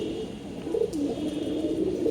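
Low, throaty cooing from a pigeon sold as an Andhra-breed bird at a home pigeon sale in Serampore, a few soft rolling coos close by against a steady background hum, with no talking.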